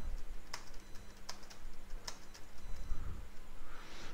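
Keys on a computer keyboard clack while text is typed into a PowerPoint slide, a few sharp distinct taps spaced irregularly over a low steady hum.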